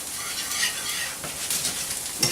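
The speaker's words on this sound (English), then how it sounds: "you just want to let this butter cook down for a little bit, this butter and flour" Butter and flour roux cooking in a pan, a soft continuous sizzle with light stirring and faint scraping, steady and close with no talking.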